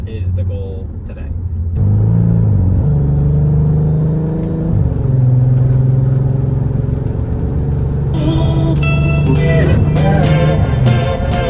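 Modified V6 Volkswagen Passat with loud exhaust and DSG gearbox, driven on a bumpy road: a steady deep engine drone that rises and settles through gear changes, close and loud, with bursts of louder noise near the end.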